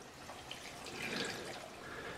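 Liquid containing beneficial nematodes soaks into seedling cells, a faint, steady wet trickle and drip that swells slightly midway and continues softly throughout.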